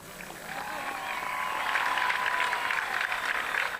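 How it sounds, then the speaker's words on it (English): A crowd applauds an artist with sustained clapping that builds and holds steady for several seconds before cutting off abruptly. "Applause for the artist."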